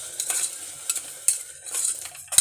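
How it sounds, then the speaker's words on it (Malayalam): Mutton biryani masala frying in oil in a pressure cooker, soft intermittent sizzling bursts and spoon stirring scrapes, fairly quiet and close. "നമുക്കൊന്ന് നല്ല രീതിയിലൊന്ന് ആ എണ്ണയിൽ ഫ്രൈ ആക്കി എടുക്കാം"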